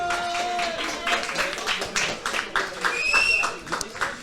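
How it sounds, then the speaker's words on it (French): Audience applause for the AFK Bar at an event, a steady patter of many hands clapping with a voice and other sounds mixed over it throughout. "On peut applaudir l'AFK Bar s'il vous plaît."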